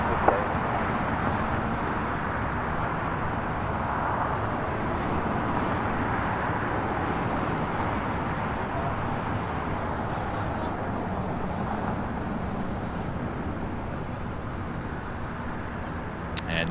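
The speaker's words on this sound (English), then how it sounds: "United Airlines flight 1945 coming in from Houston, Texas on this 29-year-old A320." A 29-year-old United Airlines A320 on arrival from Houston at LAX, heard as a steady, broad jet roar that holds evenly throughout, loud and continuous with a faint voice underneath.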